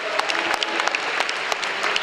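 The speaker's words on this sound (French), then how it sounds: "Vous pouvez les applaudir encore plus fort" Sustained audience applause at Japan Expo, many hands clapping steadily and densely for about two seconds, fairly loud with a few sharper claps standing out.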